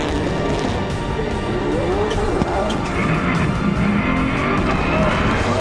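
Subaru rally cars race at GRC Daytona, with loud engines roaring and tires squealing in a continuous close-up rush of sound, and a commentator's voice underneath.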